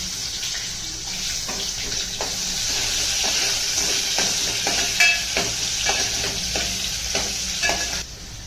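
Tomatoes go into onions already fried in a pan for a Konkani clam curry, producing a loud, steady sizzle with repeated spatula scrapes and taps in a loose rhythm.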